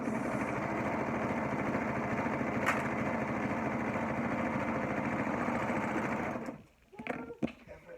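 A sewing machine stitches the side seams of a bra in a continuous close, steady whir for several seconds, then stops, followed by a few soft handling clicks.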